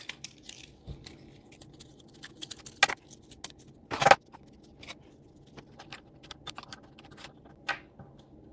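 Shears cut through a whole bunch of plant stems at once during an indoor winter gardening job. Two or three crisp snips stand out against a quiet background, with scattered faint clicks between them.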